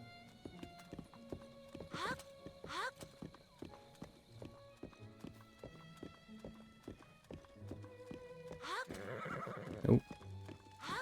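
A horse in the Zelda game Echoes of the Wild neighs twice and clip-clops along in steady hoof rhythm, with louder whinnying near the end and people talking over it.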